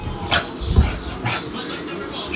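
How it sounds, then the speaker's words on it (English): Two dogs play-fight close by, snarling, yipping and whimpering in quick overlapping bursts, loud and busy, with a person's voice faintly mixed in. "She got like a cinematic dog fight going on."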